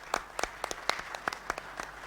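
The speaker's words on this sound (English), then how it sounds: "So big round of applause." Sparse clapping from a small conference audience honoring a moderator at a plenary session, a dozen or so distinct claps scattered unevenly across two seconds, fairly close and moderately loud.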